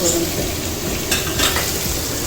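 Vegetables and egg sautéing in a pan for egg noodles give a loud, dense sizzle with brief stirring scrapes near the middle, close and without speech.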